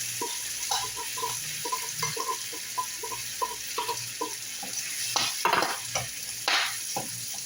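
Food frying and being stirred in a pan while cooking beans, steady sizzle under repeated scraping and stirring strokes, close and fairly quiet with no talk.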